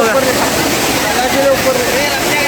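Savatkada waterfall in the Konkan sends out a steady, dense roar of rushing water that stays loud and unbroken throughout, with voices of a crowd faintly mixed in.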